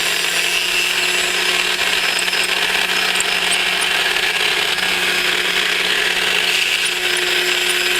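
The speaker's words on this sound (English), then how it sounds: "he's actually cutting through the pine supports as well" A machine cutting grooves through pine wood supports while building gun carriage walls for a model ship, a steady loud continuous whine and grind with constant hum, close and uninterrupted.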